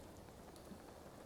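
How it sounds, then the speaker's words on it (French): Steady rain falls in The Legend of Zelda: Breath of the Wild, a soft, even hiss of drops on surfaces, faint and continuous, with no voices. "la pluie devrait bientôt cesser"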